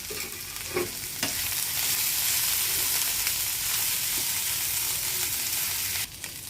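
Small fried fish tossed into a sizzling tomato mixture make a loud, dense, close frying hiss, with a few scraping stirs early on and a sudden drop in the sizzle near the end; nobody speaks.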